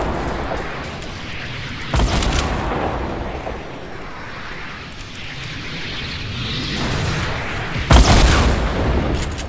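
Gunfire and heavy booms in a Fortnite duos match, with two loud bursts of shots standing out over a dense, continuous rumble of battle noise.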